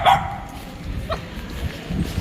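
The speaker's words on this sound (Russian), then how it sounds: "Это гавкает, как всегда," A dog barks once, loud and close, then quieter sounds follow under a low rumble of background noise.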